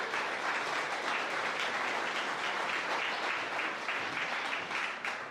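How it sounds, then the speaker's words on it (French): Audience applause at a Relais pour la vie charity event rolls on as a steady, even wash of many hands clapping, heard at a moderate distance without talk. "Une bonne main d'applaudissement, ça y mérite bien ça."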